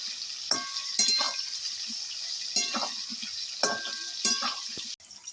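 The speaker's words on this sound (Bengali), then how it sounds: "এবার আলুর সঙ্গে কচুটা একটু ভেজে নেবো।" Potatoes and taro frying in a pan, a steady hiss of oil broken by several scraping, clinking stirs of a utensil against the pan.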